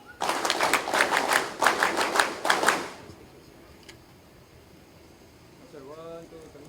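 Applause at a military course graduation ceremony, a loud burst of clapping from a gathered crowd for about three seconds that stops abruptly, followed by quiet room hum and a brief voice.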